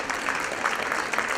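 Applause for a student being inducted into an honor society at a National Honor Society ceremony, a short steady patter of clapping from the audience at moderate level.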